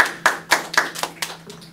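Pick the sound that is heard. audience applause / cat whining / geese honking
audience applause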